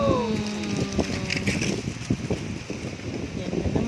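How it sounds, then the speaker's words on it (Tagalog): Strong wind on a Mother's Day afternoon, gusty buffeting and rustling against the microphone with rattling and knocking sounds, fairly close, while a person talks over it. "Mahangin na naman po."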